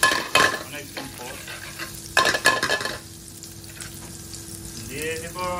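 Garlic ginger paste sizzling and frying in a pan for a chicken jalfrezi curry, with a utensil stirring and scraping in a few sharp bursts over a steady, moderate crackle.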